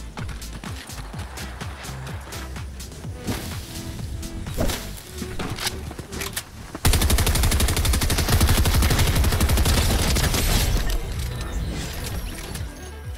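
Sustained automatic gunfire from a Fortnite Zero Build match, dense rapid bursts that swell loud and steady through the latter half, with mechanical clatter and game effects mixed in.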